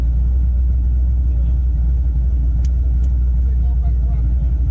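A twin-turbo C5 Corvette engine idles with a deep, steady rumble, loud and continuous, low and close, with no revving, running evenly throughout.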